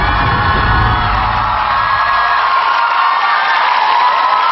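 A studio audience at a Korean music show erupts in loud, sustained cheering, whoops and shouts for a singer, a dense crowd roar filling the whole stretch without letting up.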